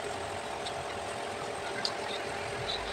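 A car engine idles steadily at low volume while cars are driven out of a flooded garage, a constant mechanical hum with faint scattered background noises.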